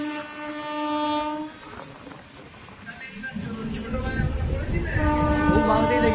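A passenger train running from Kharagpur to Digha near Ramnagar sounds tonal horn-like blasts over a steady rolling rumble, the wheel and carriage noise swelling louder and closer toward the end.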